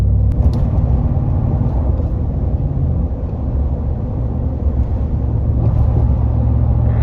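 Inside a truck on Kenda Klever R/T tires cruising at 64 mph, a steady low road roar and tire rumble fill the cabin continuously, with no talking.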